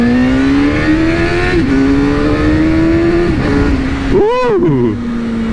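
A 2001 Suzuki GSX-R600 K1 sport motorcycle with ram air intake revs loudly and steadily, its engine pitch climbing through the gears with a quick clutchless upshift, then a sharp throttle blip and settling.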